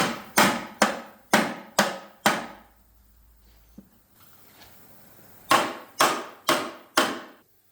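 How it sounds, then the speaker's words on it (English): A hammer taps a gearbox cluster loose on a Vauxhall F16/F20 gearbox during a stripdown, five sharp evenly spaced knocks, a quiet pause, then four more in the same steady rhythm, close and loud. "We should be able to lift that cluster clear now. A little tap to persuade it loose."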